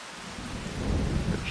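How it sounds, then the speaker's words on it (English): Steady rain with a deep rolling rumble of thunder building beneath it, a dense continuous wash that swells slightly louder toward the end, from the video game Farming Simulator 25. "It's raining also."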